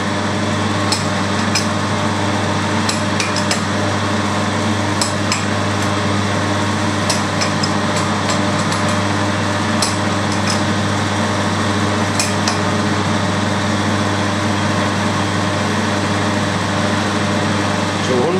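A milling machine takes a 200 thou cut on a dividing head job in a workshop, giving a steady, continuous mechanical drone with a strong low hum and faint intermittent ticks, unbroken throughout.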